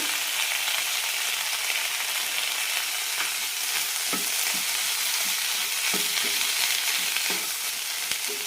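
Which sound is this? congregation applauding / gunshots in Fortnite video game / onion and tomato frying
onion and tomato frying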